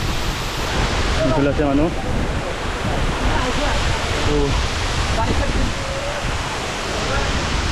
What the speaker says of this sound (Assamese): এয়া ৰাণীখামাৰ ৱাটাৰফল চাওঁ